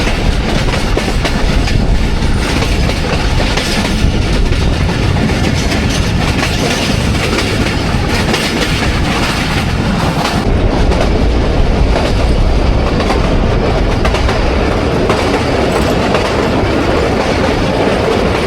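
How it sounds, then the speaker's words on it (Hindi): The 130 Down Thall Express crossing a bridge, a loud, steady roar of rolling carriages with continuous rumble and rhythmic clatter heard from on board, with no voices. "और ब्रिज आ गया है जी और ब्रिज से पास हो रही है 130 डाउन खाल एक्सप्रेस"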